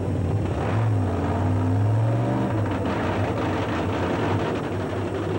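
A 3,000 horsepower aluminum nitro funny car racing engine, 1987 drag racing era, fires up and runs loud and close, with a rising then falling roar and a steady heavy rumble throughout.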